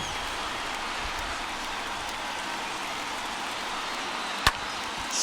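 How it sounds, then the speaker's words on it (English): Steady rain pours over a baseball stadium during a World Series game, a continuous dense hiss filling the scene with one sharp tap late on. "the rain starting to intensify here. It's coming down a little heavier now"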